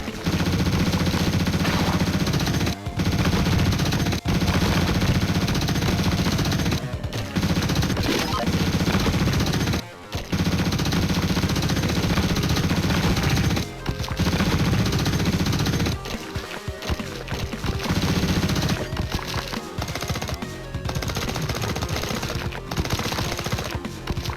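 Rapid, sustained bursts of Vulcan machine-gun fire in the pixel-art shooter Xeno Crisis, loud and dense with brief pauses between volleys and chiptune music underneath.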